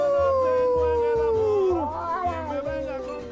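A person imitates a wolf howl, a single long, loud falling wail close up that bends down and then rises again, with a second voice joining toward the end.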